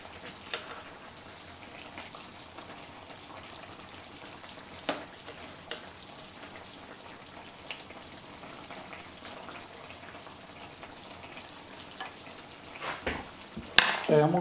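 Beef and bowtie pasta simmer in a small electric cooker with a faint, steady sizzle and soft bubbling, followed by a few louder clinks near the end.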